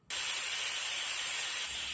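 A pressure cooker holding Hyderabadi mixed vegetable masala bursts into its second loud steam release, a sharp onset followed by a sustained, close hiss that continues to the end.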